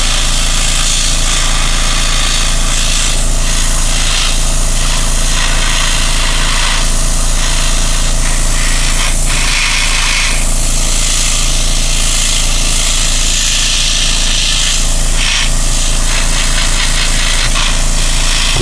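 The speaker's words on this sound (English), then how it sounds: "You can also use just straight air from the airbrush." An airbrush sprays Vallejo primer as light misted coats, giving a loud, continuous hiss of air and atomized paint that runs steadily throughout with small fluctuations and no voices.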